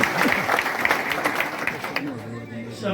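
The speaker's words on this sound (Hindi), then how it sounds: "जोरदार तालियों से सम्मान कीजिएगा" A crowd at a Brahmin community political rally in India applauds for about two seconds, then the clapping fades while a speaker's voice continues over a low hum.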